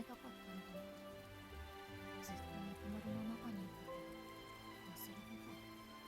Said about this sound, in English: The drizzle becomes stronger and soon turns into a downpour.